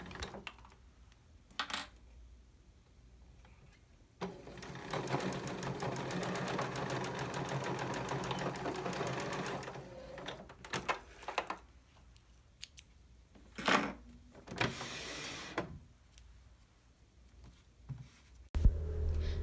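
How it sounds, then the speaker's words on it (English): A sewing machine fitted with a quarter-inch presser foot stitches a quarter-inch French seam in one steady run of several seconds, framed by scattered quiet clicks and handling noises from fabric and scissors, with no talking. "a 1/4 inch presser foot works great for sewing this 1/4 inch seam"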